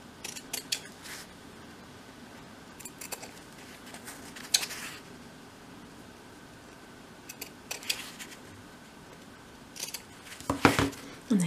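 Small scissors snip the sides of a 1/12 scale dolls house miniature overnight bag, giving a series of crisp close cuts in short clusters with quiet pauses between them.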